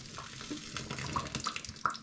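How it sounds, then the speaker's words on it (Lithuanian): Hot water poured off boiled potatoes in a kitchen pot, a steady splashing rush running through the whole moment with a few bright clinks, fairly close and moderately loud. "Nupil vandenį."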